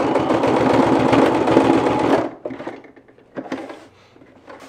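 A sewing machine runs a quarter-inch seam on a bag's back panel in one steady, loud close burst of rapid stitching, then stops, leaving faint handling clicks and rustles.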